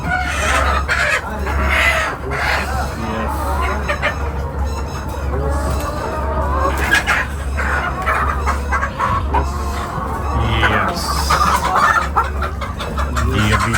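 Chickens at a poultry farm cluck and squawk continuously and loudly close by, with a dense flock chorus, a rooster crowing now and then, and a steady low hum underneath.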